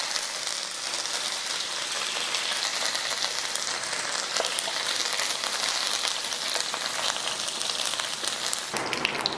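Steady, dense crackling sizzle of a handful of curry leaves frying in hot oil after mustard seeds pop, continuous and close, with a few sharper pops near the end.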